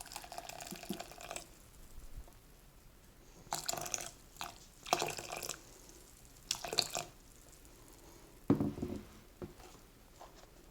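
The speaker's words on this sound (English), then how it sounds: "pouring over some boiling hot water" Boiling water is poured into a bowl in short intermittent bursts, splashing between quiet pauses; soft and close, no talking.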